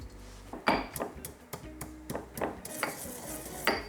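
Sichuan peppercorns are ground in a series of short, irregular scraping and crunching strokes, close and fairly quiet, with no talking.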